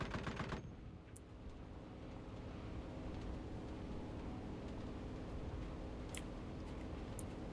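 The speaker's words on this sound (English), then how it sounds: "The rear gunner is actually firing." A rear gunner's machine gun firing in the Enlisted video game, heard as a faint, steady rattle under a continuous engine drone after an opening burst, with a few isolated pops later.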